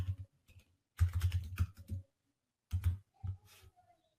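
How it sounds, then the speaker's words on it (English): Someone types on a computer keyboard nearby in slow, uneven bursts of soft key clicks separated by short pauses. "Okay, just typing that in."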